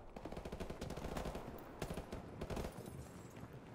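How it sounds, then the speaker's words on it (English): Bursts of rapid gunfire in Call of Duty: Modern Warfare Remastered crackle in quick succession at moderate distance, fairly faint, with a brief lull before more shots. "I hear gunfire."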